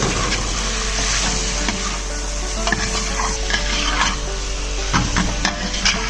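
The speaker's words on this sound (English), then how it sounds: "Now what we had to do is we had to give it a quick stir." Spiced vegetables stirred quickly in a frying pan with coriander powder, kitchen king masala and salt, a steady close sizzle with scraping spoon strokes and light clinks throughout, no talking.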